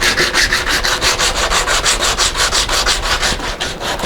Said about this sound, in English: I'm going to use that as a sanding block.